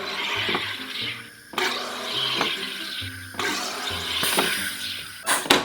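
Carbonated water pours into homemade cola syrup with a steady splashing, fizzing gush, close up, with a few brief pauses and clinks between pours.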